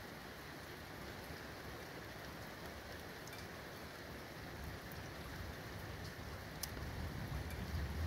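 Steady, dense rain from a thunderstorm pours down without pause, building slightly heavier toward the end, with a faint sharp tick near the close.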